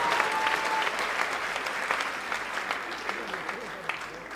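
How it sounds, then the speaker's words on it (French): Audience clapping at a live stand-up comedy night, steady applause from a large crowd with crisp individual claps standing out, continuing evenly from start to finish. "Applaudissez pour le délégué du gouvernement."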